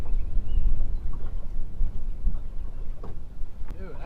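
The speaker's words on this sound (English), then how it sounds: "It's blowing like 20 miles an hour." Strong wind buffeting a fishing boat out on the water, heavy rumbling gusts and microphone wind noise at close range, loud and uneven, with low engine or water sounds beneath.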